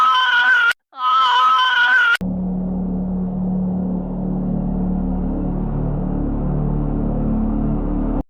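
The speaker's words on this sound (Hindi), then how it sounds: "अचानक ऊपर से जोर की चीख गूंजी।" Loud, piercing scream echoing from upstairs in a haunted-mansion horror story, two sustained shrieks with a brief gap, then cut off abruptly and followed by a low rumbling drone.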